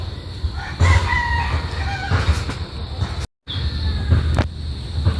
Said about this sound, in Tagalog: pagpakain natin sa ating mga alagang manok